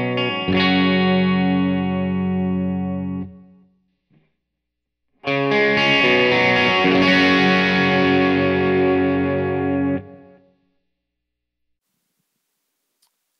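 Electric guitar played through the overdrive side of a Nova Drive pedal, with no distortion stage engaged: two sustained, mildly driven chord passages, each ringing for several seconds and then fading, separated by a short silence.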